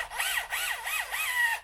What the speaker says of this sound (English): I can put it in my wonky drill